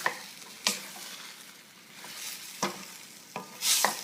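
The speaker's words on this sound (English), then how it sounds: "I'm just going to try to stir it up and get some of the sauce on all of it" Bite-sized pieces of beef and broccoli stirred in sauce in a pan, with a soft background sizzle and a few sharp scrapes and knocks of a utensil spaced a second or so apart.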